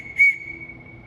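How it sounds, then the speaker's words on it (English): A single short, sharp whistle blast used as a command on an archery range, loud and close, followed by a faint lingering tone. "2 whistle commands is get bow."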